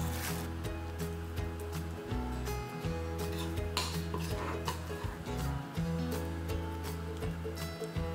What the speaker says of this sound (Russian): И теперь все хорошо перемешиваю.